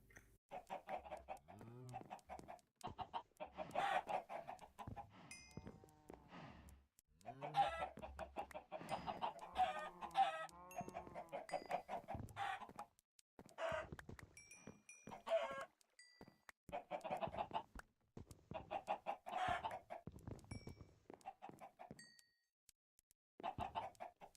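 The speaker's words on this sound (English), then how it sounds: "Kill the chicken." Minecraft chickens clucking repeatedly in bursts throughout, fairly close, mixed with game noises and brief gaps of quiet.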